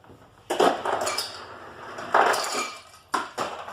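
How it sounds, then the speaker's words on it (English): A tall drinking glass is picked up and set down, giving three distinct clinking, rattling bursts of glass against a hard surface, close and clear with quiet gaps between and no voices. "First of all, we get a nice tall glass"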